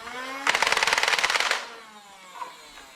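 An Adventure Force Spectrum foam dart blaster fires a rapid full-auto burst of about a second, loud and close, a dense clatter of mechanical shots followed by quieter handling noise.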